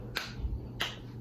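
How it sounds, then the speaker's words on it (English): A pair of crisp hand claps roughly half a second apart, marking a beat between vowel letters in a phonics lesson, close and clear against a quiet background hum. "I want you to do 2 claps in between"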